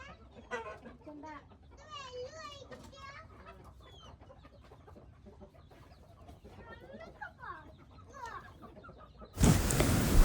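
Chickens being fed cluck and squawk in quick, scattered bursts, with voices faintly mixed in, ending in a sudden loud rustle.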